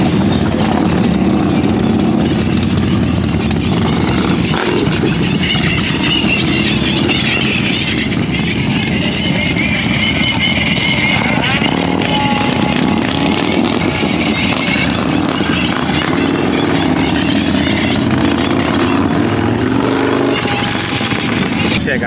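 Motorcycle engines rumble and rev loudly and steadily at Daytona Bike Week, a dense crowd of bikes near the Harley-Davidson demo area, with people talking over the din.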